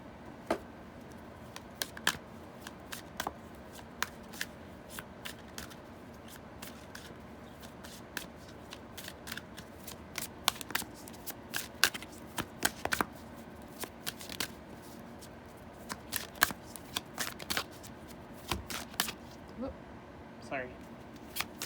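An Angels of Abundance card deck, hard to shuffle, is shuffled over and over, with quick riffling bursts and soft slaps repeating steadily across the whole stretch, close and moderately loud.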